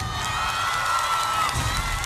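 A studio audience cheers and applauds for a singer after he sings an anime theme song, giving a steady, loud crowd roar that sustains throughout with no pauses.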